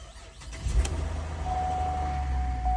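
Engine of a flood-damaged Cadillac SRX cranking briefly and catching, then settling into a steady close idle with a faint whine running over it.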